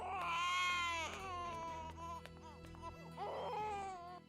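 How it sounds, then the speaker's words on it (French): A small infant girl cries in a nearby bedroom, with drawn-out wails that rise and fall over music, then a pause before a second burst of crying, at a moderate level. "On dirait que la petite pleure."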